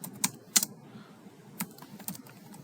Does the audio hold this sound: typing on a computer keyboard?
yes